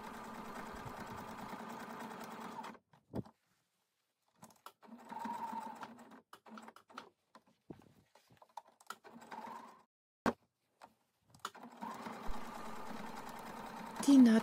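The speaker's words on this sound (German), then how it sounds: "Ich fange an einer der langen Seiten an und nähe nun knapp an der Kante das Klettband auf die Maske." A sewing machine sews a Velcro strip close to the edge of a fabric sleep mask in several short bursts separated by pauses, with quiet handling sounds between runs.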